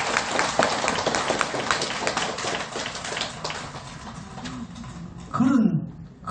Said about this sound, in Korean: 우리 교주 불세조 석가모니 박수 한번 더 칩시다